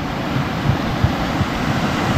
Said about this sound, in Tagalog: Malakas pa yung alon.